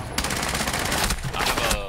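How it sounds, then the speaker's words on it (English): Rapid bursts of gunfire crack out in a video game, close and loud, rattling in quick succession with short gaps between volleys, and a voice briefly sounds beneath them. "I'm already getting shot at, bro."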